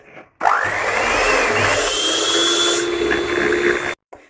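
Electric hand mixer beats eggs with powdered sugar for a chocolate-vanilla cake, a steady close whir running about three and a half seconds with a rising pitch at the start, then cutting off abruptly.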